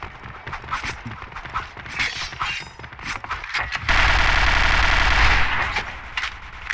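Rapid gunfire rattles in the Point Blank video game, first as scattered close shots and mechanical clicks, then as a sustained loud burst of automatic fire.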